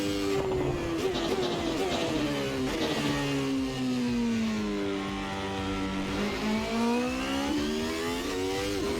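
McLaren MP4/8 Formula 1 car engine in Assetto Corsa screaming at full throttle, a loud continuous high-pitched whine that climbs and dips steadily with gear changes, alone and close.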